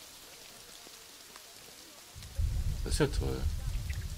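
Rain falling in the Planet Zoo game, a steady hiss of drops that swells in partway through and continues under someone speaking German.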